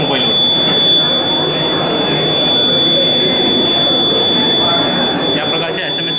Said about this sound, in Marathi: रेग्युलेटर ऑटोमॅटिकली ऑफ झालेला आहे, एक्झॉस्ट फॅन ऑन झालेला आहे, बझर अलर्ट करत आहे